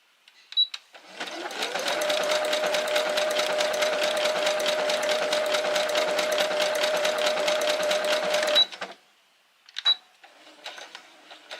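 A sewing machine runs at steady speed for about seven seconds of continuous stitching on a primitive art project, loud and close, then stops; a few short clicks and knocks follow.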